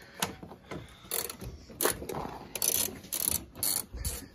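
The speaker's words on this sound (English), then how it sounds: "We got Sunday turning the bolts." A ratchet turns bolts on a Subaru WRX, with bursts of quick clicking strokes in uneven runs, close and fairly quiet, and no talking.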